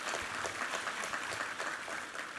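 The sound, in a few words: congregation applause in church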